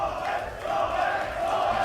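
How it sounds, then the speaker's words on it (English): A crowd at an esports tournament chants a player's name, a loud, sustained massed roar of voices with a pulsing rhythm. "You can hear the Noel chants."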